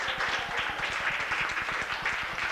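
A theater audience applauds a band, dense and sustained clapping at moderate volume with a steady patter and no voices over it.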